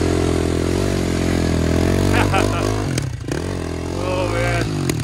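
A KTM 450 quad engine revs hard on a winter ride, loud and close, with pitch rising and falling through several throttle blips while people talk over it.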